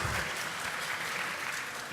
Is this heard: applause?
yes